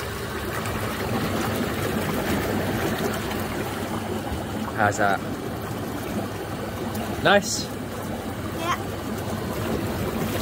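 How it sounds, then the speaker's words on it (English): A DIY hot tub's bubble jets churn steadily throughout, a dense continuous rush of bubbling water with people chatting over it. "Shall we turn the bubbles on?"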